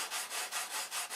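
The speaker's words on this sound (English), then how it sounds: "I'm detail sanding the wing today." A wooden model airplane wing is detail sanded by hand, with cap strips being blended into the sheeting. About six quick, even back-and-forth rubbing strokes follow one another in a steady rhythm, soft and close.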